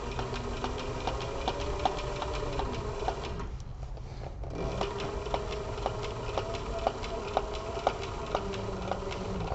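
Sewing machine running a straight seam with the presser foot held on the seam, a steady mechanical whir with regular stitch ticks throughout, briefly dropping out near the middle.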